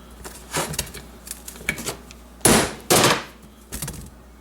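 Sharp metallic hammer blows strike a manual impact driver set on a clutch screw of a Grizzly 700 ATV, several irregular nearby knocks with two loud hits in the middle, with no talk.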